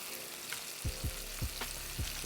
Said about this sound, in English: we're gonna gently place in our coated onions. We're shallow frying these